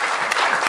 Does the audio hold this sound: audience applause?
yes